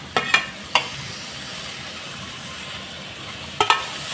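Tomatoes and onions fry in a pan for an egg kurma, giving a steady soft sizzle broken by a few sharp scrapes and clinks of stirring near the start and end.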